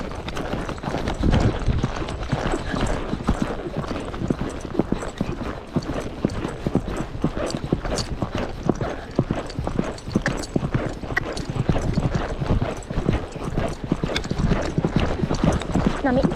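Horses' hooves clip-clopping steadily through a ride, a dense, even, rapid rhythm of close hoofbeats running throughout, with a rider's voice heard at times over it.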